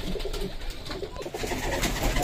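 Black Saharanpuri pigeons coo steadily in a loft, a close, continuous throaty murmur of overlapping calls with no talking.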